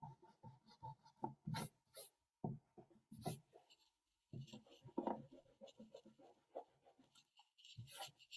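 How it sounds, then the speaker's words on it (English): Eraser rubbing out pencil guidelines on paper during a tiger lily drawing, heard as close, uneven scrubbing strokes in short bursts with a brief pause midway. "we can get our eraser and we can rub out our guidelines"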